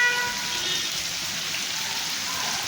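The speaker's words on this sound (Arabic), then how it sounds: "أمطار الخير التي حطت بمدينة وجدة." Steady rain pours over the city of Oujda, Morocco, a dense, even hiss of drops on surfaces that stays loud and unbroken throughout.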